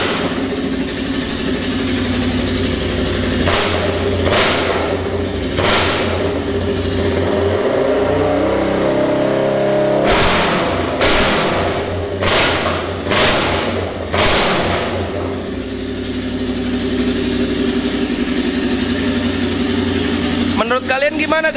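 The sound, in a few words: custom Honda Mighty Rebel motorcycle engine revving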